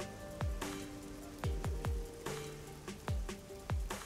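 Steady rain patters on a neon-lit city street in the video game Master Detective Archives: Rain Code, with a dense wash of drops and several sharp, falling swoosh-like game effects cutting through the downpour.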